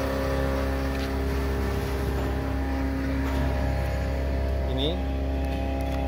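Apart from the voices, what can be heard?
petrol engine running a 2 HP supercharger pond aerator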